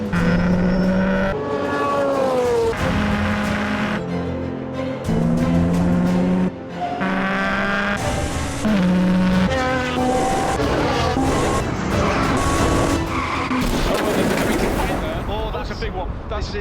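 A race car at the Le Mans endurance race roars past loudly, its engine revving and dropping through repeated gear changes, with a commentator's voice running over the engine noise.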